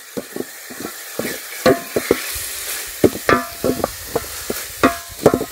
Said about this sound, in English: So this is in the process of frying my kunde.